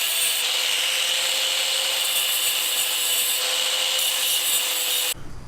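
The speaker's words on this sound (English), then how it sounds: "do some ill-advised grinding with a cutoff wheel" Cutoff wheel grinding on a Nissan 370Z transmission part during a swap into a Volvo: a steady, loud, high-pitched abrasive whine running continuously, then cutting out abruptly near the end.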